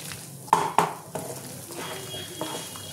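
Masala for a Bengali prawn dhoka dalna is stir-fried in a pan: a low sizzle runs beneath a few sharp spatula knocks and scrapes against the metal, close and distinct.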